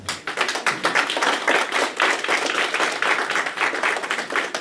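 A church congregation at a French-speaking service claps loudly and rhythmically in unison, a dense, steady beat of many hands close by.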